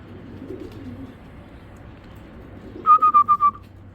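A Belgian racer pigeon gives a short burst of about five quick, bright whistling coos near the end, standing alone over a faint low background.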